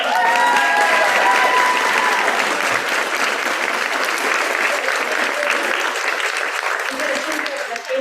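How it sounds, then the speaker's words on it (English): A live in-person book club audience applauds author Laura Tremaine, a full, sustained round of clapping that stays loud throughout, with faint crowd voices mixed into the room. "Let's have one more round of applause for her."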